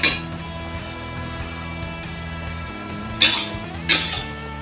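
Two sharp metallic clinks of a utensil against a pot while lentil-free borscht is stirred, with a steady low kitchen hum underneath.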